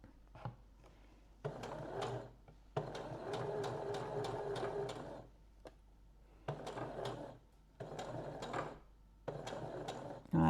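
Domestic sewing machine stitching a dart straight off the fabric edge, running in several bursts of steady mechanical whirring separated by short pauses, close and fairly loud.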